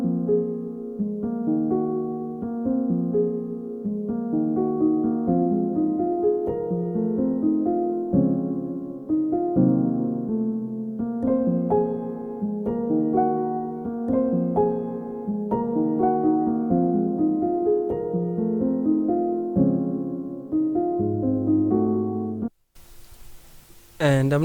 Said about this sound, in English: this piano is from Spitfire Labs Soft Piano, and it sounds like this